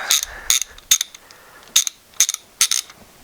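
Metallic ratcheting clicks from a socket wrench undoing bolts and nuts on a BSA B31/B32/B33/B34 motorcycle gearbox, in six short close bursts separated by brief pauses.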